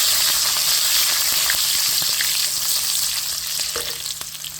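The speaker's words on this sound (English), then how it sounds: "We put enough curry leaves, add garlic, saute it lightly." Curry leaves and garlic sauté lightly in hot oil in a pan, giving a loud, steady sizzle and crackle that carries through without a break and fades slightly toward the end.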